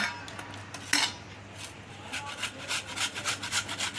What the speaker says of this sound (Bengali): এরকমভাবে গ্রেডারে করে ঘষে নেব